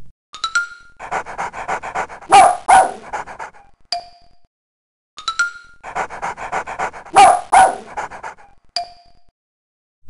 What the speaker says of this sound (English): press a key and the dog will make a doggy sound.